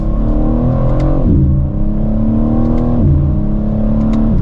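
A 2023 BMW M4 Competition Convertible xDrive accelerates hard, its loud exhaust rising through the gears with two quick shift breaks, close and alone without talk.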